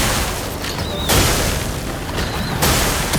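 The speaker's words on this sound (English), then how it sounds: "Second attack explosion." Two booming explosions from a second attack in the video game Clair Obscur: Expedition 33, each a loud broadband burst with a short whistling tone before it, spaced about a second and a half apart over continuous game noise.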